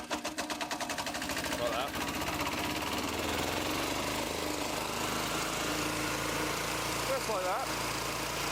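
A mobility scooter's motor starts and runs in a steady, loud mechanical drone, with someone talking over it throughout.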